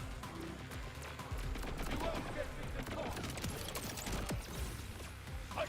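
Gunfire in the video game Borderlands, a dense run of rapid shots and bursts over a continuous roar of game noise and music, loud and close throughout.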